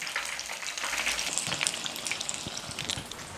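Batter-coated chili bajji, dipped a second time, bubbles and crackles in hot oil, a dense rain-like sizzle with a few sharper pops, close and steady, without any voices.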